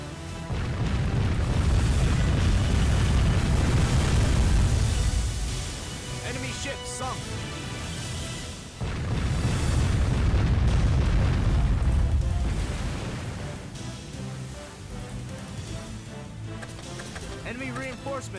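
Heavy booming explosions from an enemy battleship sinking in the naval combat video game Warship Gunner 2, two long rumbling blasts each swelling and fading, with game voice announcements over them.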